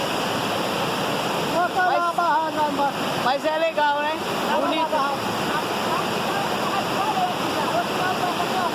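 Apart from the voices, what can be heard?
rushing water of a waterfall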